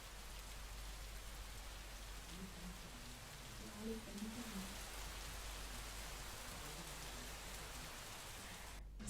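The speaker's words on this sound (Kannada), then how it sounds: "ಬೆಂಗಳೂರಿನಾದ್ಯಂತ ಗಾಳಿ ಮಳೆ ಬರ್ತಾ ಇದೆ" Wind-driven rain falls across Bangalore as a faint, steady hiss of drops on surfaces, distant and even throughout, with a soft low murmur briefly rising beneath it.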